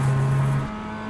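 A race car engine in a racing video game holds a steady high drone that drops abruptly in pitch and level about halfway through, then settles at a lower, quieter hum.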